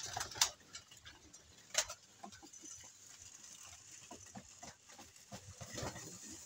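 Pigeons at feeding time in a fancier's loft, faint soft cooing and scattered wing flutters and pecking taps at a moderate distance, with no talk.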